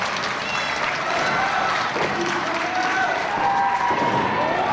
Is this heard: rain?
no